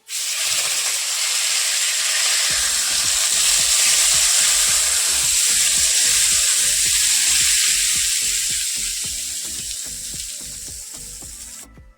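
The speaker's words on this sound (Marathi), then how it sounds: "ही फोडणी आपण चटणीत टाकून घेणार आहे" Hot mustard seed and asafoetida tempering poured into curd chutney, bursting into a loud, steady hiss of sizzling that holds for several seconds, then slowly thins while a quick series of close, rhythmic crackles and pops runs underneath to the end.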